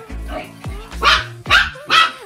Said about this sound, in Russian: Вот так лаять!